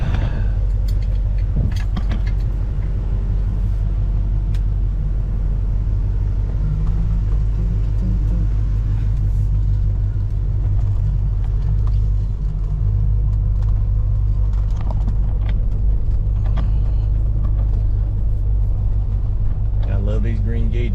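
A 1968 Dodge Charger driving, its engine giving a deep, steady low rumble that stays loud and constant throughout, with a voice talking over it.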